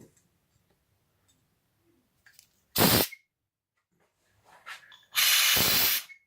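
Two sharp bursts of CO2 hiss from a SodaStream S30 cylinder through an injector screwed on by hand, a short blast then a longer one about two seconds later, loud and close with small clicks between.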